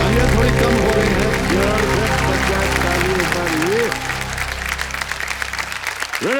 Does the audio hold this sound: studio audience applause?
yes